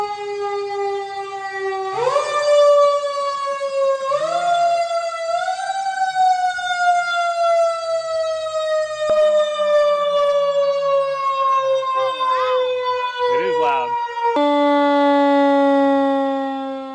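A mechanical siren spins up and wails loudly, its tone rising and falling in long sweeps, close by and sustained, swelling again near the end.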